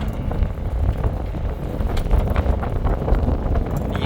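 Cool wind blowing outdoors across a golf course used for integrated farming, a steady, fairly loud rush and buffeting on the microphone that continues without a break.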